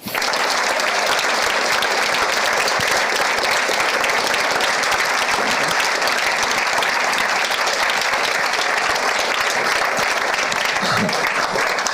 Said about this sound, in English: Give them a really big applause, huh?